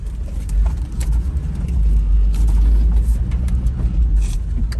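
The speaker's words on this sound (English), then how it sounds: "1977 Toyota Chinook runs and drives again" A 1977 Toyota Hilux Chinook camper, revived after twenty years abandoned, drives with its carbureted engine under load, a steady low rumble with road noise close by.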